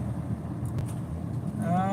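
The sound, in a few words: road traffic passing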